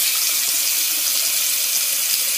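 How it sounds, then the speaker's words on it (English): Water rushes steadily from a newly installed RV bathroom faucet, a loud, close, continuous hiss with faint spluttering from air in the lines and no talking. "And we will test out our new faucet."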